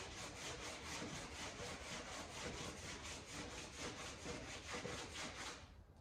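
Sanding body filler smooth on the metal of a 1963 Chevy C10 truck under restoration: steady, rhythmic back-and-forth abrasive strokes, close and loud, continuing for several seconds before stopping.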